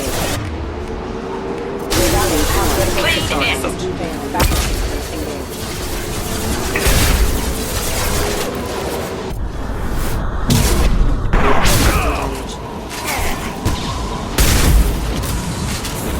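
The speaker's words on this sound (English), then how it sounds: "Flashbang!" A flashbang grenade bursts during a firefight in the Shadow Broker's lair in Mass Effect 2, loud booms and crackling blasts layered over game effects and dense battle noise, with voices heard throughout.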